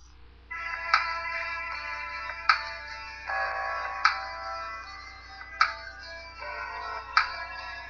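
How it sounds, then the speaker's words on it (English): A phone ringtone plays a melodic electronic tune, repeating in regular phrases with sharp accented beats, clear and alone without any voices. "what is your current ringtone? I've got a couple for my phone"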